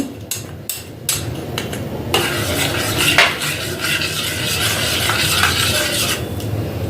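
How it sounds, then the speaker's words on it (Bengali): A spoon stirs milk into bael panna in a bowl, clinking steadily against the sides in a continuous scraping, tapping rhythm, close and fairly loud, with a few sharper knocks at the start. "দুধটাকে গুলে নিতে হবে, নাহলে ছাকা ছাকা হয়ে যাবে"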